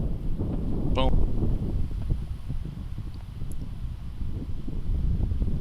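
Wind gusting outdoors on a disc golf course, a steady low rushing buffet across the microphone with faint rustling and a few brief distant chirps, with no speech.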